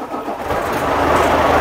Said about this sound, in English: then you start the engine